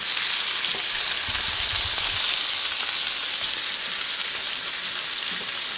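Chicken for chicken marsala sizzles loudly in a pan after being flipped, a dense, steady frying hiss close up with faint scraping underneath and no talking.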